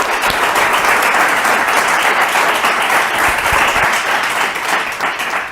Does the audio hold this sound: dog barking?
no